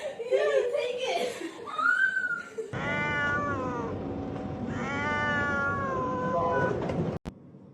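A cat gives several drawn-out, wavering meows, some rising into a caterwaul, up close and loud. People chuckle and talk over and between the cries, and a sharp click sounds near the end.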